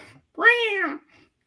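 A single clear cat meow, rising then falling and lasting about half a second, from the Christmas Vacation scene where the grandmother wraps up the cat; close and alone, with quiet around it.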